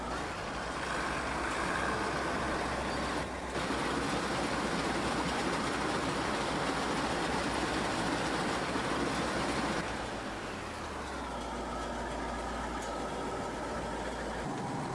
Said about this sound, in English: I love the rattle and clank of this old Soviet era engine.